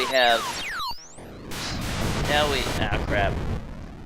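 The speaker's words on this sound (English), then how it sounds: "we have these bombs that attack you, and they take like 3 full blasts from your shots to destroy" Laser-like shots and booming blasts from the 1982 Atari arcade game Liberator, with descending synthesized zaps, a loud burst, then a dense rumbling explosion texture lasting several seconds.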